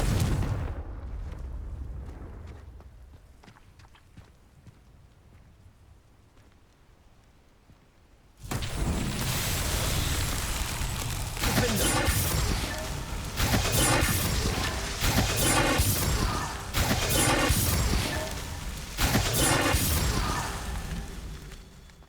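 A Confringo fire spell bursting in the game Hogwarts Legacy: a near-silent stretch breaks into a sudden loud blast, followed by rolling, crackling booms and repeated bursts that continue to the end.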